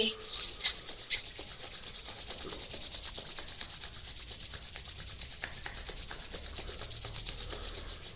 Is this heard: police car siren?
no